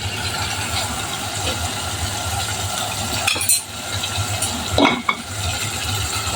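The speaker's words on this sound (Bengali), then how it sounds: "এখন টমেটো আর ক্যাপসিকাম খুব ভালো করে মাংসের সাথে কষাতে হবে" Chopped tomato and capsicum stir-fry with chicken pieces in a pan, a close, fairly loud hissing sizzle with two distinct scraping stirs of a spatula midway and toward the end.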